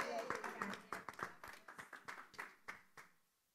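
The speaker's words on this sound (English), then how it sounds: "Let's give her a big hand of applause." Scattered, uneven clapping from a small church gathering, with distinct individual claps at first layered with a faint voice, then thinning to a few isolated hand claps that trail off into quiet.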